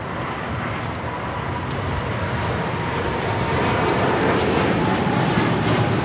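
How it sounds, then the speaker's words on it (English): A British Airways Boeing 777-300ER jet airliner takes off at Los Angeles airport, a broad, continuous engine roar that swells slightly louder toward the end, heard alone without talk. "This is British Airways 282 taking off to London Heathrow"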